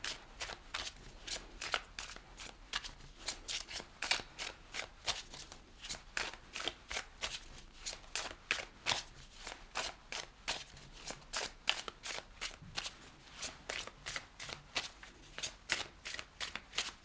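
Tarot cards are shuffled over and over in a quick, even rhythm of crisp papery riffles, close and clear with no talking.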